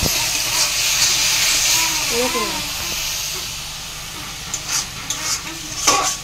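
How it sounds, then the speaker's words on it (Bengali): Chana matar cooking in a pan with chili powder and tomato paste, a steady hiss and sizzle with faint stirring scrapes, close and continuous, no talk. "এবার আমি ভালো করে কষিয়ে নিচ্ছি।"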